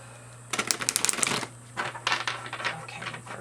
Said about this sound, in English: then we're going to shuffle the cards